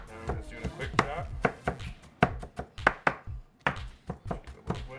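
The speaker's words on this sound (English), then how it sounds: "Now I'm just doing a quick chop." Quick knife chops through chicken against a board, a steady series of sharp close thunks with a brief pause midway before chopping resumes.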